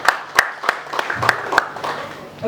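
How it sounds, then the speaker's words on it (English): Scattered claps from a dinner audience, a handful of sharp separate hand claps rather than a full roar, with faint background voices. "One round of applause for Dottie"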